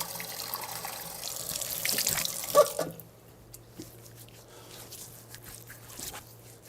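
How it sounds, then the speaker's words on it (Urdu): Tap water runs steadily into a sink during wudu ablution washing, a broad splashing rush for about three seconds that then cuts to a quiet room with a low hum and faint drips. "3 مرتبہ ہاتھ دھو لیے، کلی کر لی، ناک میں پانی ڈال لیا"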